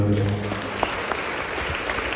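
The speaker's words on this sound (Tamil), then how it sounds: "கைத்தட்டுங்க பிரியமானவர்களே." A church congregation at a Catholic novena service at Sacred Heart Church breaks into dense, sustained clapping that fills the whole moment, loud and close, while a voice carries on speaking underneath.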